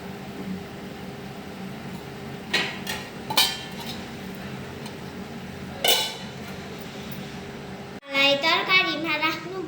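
A pot of vegetables is stirred on the stove with metal utensils, giving sharp scattered clinks and scrapes, then someone talks close up.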